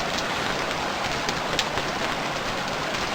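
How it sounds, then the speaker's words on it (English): Steady, dense rainfall hisses across the whole clip, a constant heavy downpour with scattered brighter droplet ticks, no voices, in the video game Stranded Deep. "So it's raining pretty hard."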